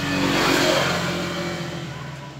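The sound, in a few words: Honda TMX155 motorcycle engine revving after overhaul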